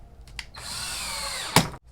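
A power drill drives a fastener to secure a table saw jig for making round tenons. A single close, high whir lasts just over a second, ends with a sharp click, and is followed by quiet.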